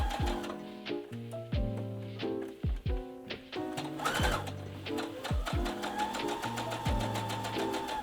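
A domestic sewing machine stitches through fleece in short bursts, rapid mechanical needle ticking with clunky starts and stops, close and clear with no speech.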